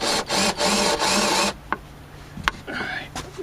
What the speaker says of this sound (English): That's why I pre-drill.